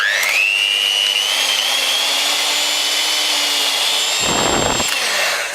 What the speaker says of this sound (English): That was at full power, 190 watts, 240 volts going through that 3 watt speaker.